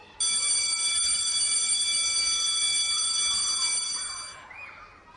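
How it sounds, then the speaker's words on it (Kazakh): A school bell rings in one long steady electric tone for about four seconds, loud and continuous, then cuts off and fades into faint room noise. "Қоңырау соғылды."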